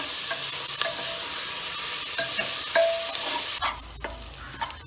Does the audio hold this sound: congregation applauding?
no